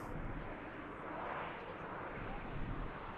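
A departing airplane at Manchester Airport roars as a broad, steady engine rumble and rush, loud and sustained without a clear rise or fade.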